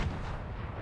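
A single loud, booming Excalibur rifle blast in Fortnite Creative, fired at point-blank range, with a deep low rumble that lingers and slowly fades, alone without talk.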